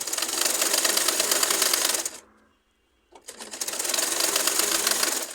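A home sewing machine stitches baby frock fabric, joining the right side to the reverse, in two steady bursts of loud, dense whirring separated by a brief pause.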